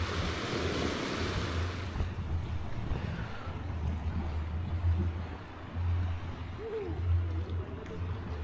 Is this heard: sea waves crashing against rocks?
yes